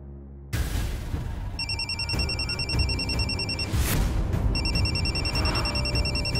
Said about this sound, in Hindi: किसी के फोन बजने की आवाज आई